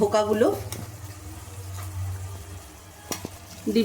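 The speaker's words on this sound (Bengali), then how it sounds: "ঝোলটা ভালোভাবে ফুটে গেছে, এবার আমি ডিমগুলো দিয়ে দেবো" Egg dhoka pieces dropped into boiling curry gravy in a pan, a soft bubbling sizzle with a couple of sharp clinks of a spoon against the pan, close by, with a voice talking at the start and end.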